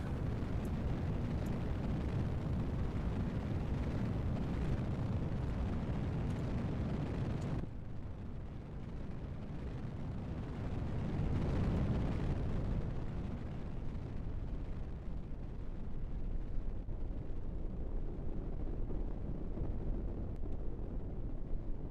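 Rocket engines fire in Kerbal Space Program, a steady, loud, broadband roar that holds for the whole stretch with a brief dip partway through, with no voices over it.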